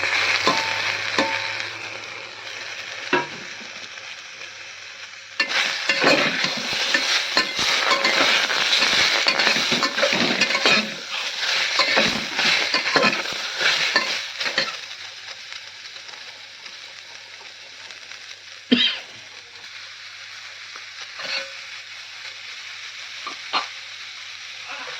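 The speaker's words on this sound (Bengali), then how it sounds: "এটা হালকা করে ভেজে নেব। দেখো সয়াবিনগুলো কিন্তু হালকা ভাজা হয়ে গেছে।" Soybeans, chopped green chillies and two tomatoes fry in a pan for pressure-cooker pulao: a continuous close sizzle rises loudly as the vegetables go in, with repeated spatula scrapes and stirring clinks, then settles to a softer hiss.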